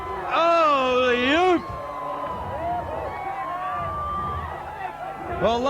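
A rodeo crowd cheers and hollers for Chainsaw, a bucking bull, with loud whoops and yells rising over a steady roar of voices and ongoing crowd noise.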